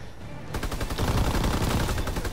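Rapid, loud gunfire from a Call of Duty Zombies match bursts in after a brief quiet moment and continues as a dense, unbroken stream of shots.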